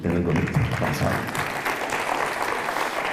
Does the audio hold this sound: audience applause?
yes